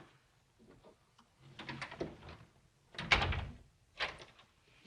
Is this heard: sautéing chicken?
no